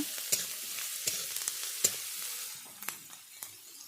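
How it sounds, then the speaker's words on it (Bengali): Onions frying with salt in a pan for a Bengali hilsa tail bharta, a steady close sizzle broken by several sharp clinks and scrapes of stirring, with no voices. "লবণ দিয়ে ভালো করে কিছুক্ষণ আমি ভেজে নেব।"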